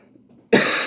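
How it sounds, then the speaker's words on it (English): A person with a persistent illness coughs once, a sudden loud harsh burst after a quiet stretch, close to the listener with no talking. "My cough has hit me with a vengeance."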